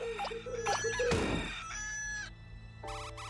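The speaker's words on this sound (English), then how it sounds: "Chickens!" Chickens cluck and a rooster-like call sounds in a PS5 video game, with short clipped fowl calls, a noisy burst, then tonal game chimes, all fairly faint.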